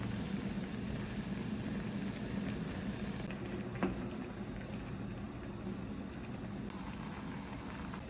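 Ramen noodles with seaweed boiling in a pot, a steady low bubbling and rumbling that holds evenly for the whole stretch, fairly quiet, with one brief clink near the middle.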